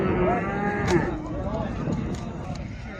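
Bull calves moo in a drawn-out call, with more lowing and a crowd murmuring in the background of a busy livestock market in Maştağa, Azerbaijan.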